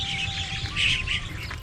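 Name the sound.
many birds chirping at Kakulir Bil wetland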